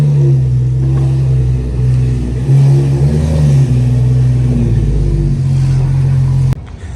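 A race car rolls in at the Circuit of the Americas track during a Super Lap Battle, its engine rumbling loud and close with a brief rev before cutting off abruptly near the end.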